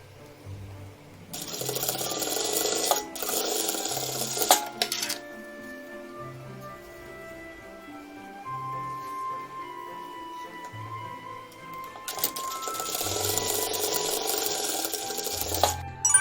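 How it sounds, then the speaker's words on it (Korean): A sewing machine fitted with a single-sided presser foot stitches white piping tightly, running in a few steady bursts of rapid mechanical whirring separated by quiet gaps, with no talk. "외노루발로 타이트하게 감싸면서 박습니다."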